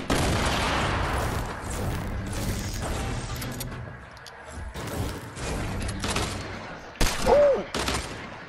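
Gunfire from the video game Fortnite: a dense, continuous spread of shots and bursts through most of the stretch, dipping briefly in the middle, then a louder flurry of blasts near the end.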